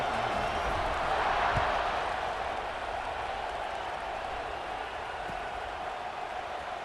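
A football stadium crowd murmurs and buzzes steadily after a score, a broad distant wash of many voices that stays even throughout without sharp cheers.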